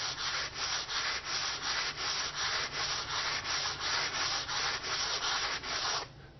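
Drywall patch being sanded smooth by hand, a steady rhythmic scrape of strokes back and forth, close and fairly loud, stopping abruptly near the end.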